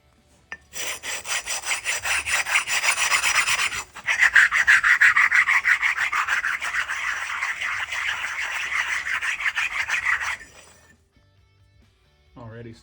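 Brake pads scraped back and forth on concrete in a loud, steady rasping grind, two long sustained bursts with a short break between, then a faint rub at the end.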